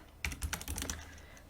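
Python code being typed on a computer keyboard: a quick run of about eight crisp key clicks, close and clear, tapering off into quiet.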